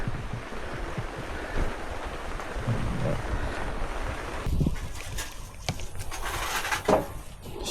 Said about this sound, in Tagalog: Mukhang lumalakas ang ulan.